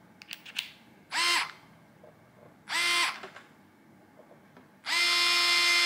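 A Bosch Go 2 cordless screwdriver runs in three short bursts, each a whining motor spin of about a second separated by quiet pauses, with a few soft clicks before the first burst and the last burst louder and longer.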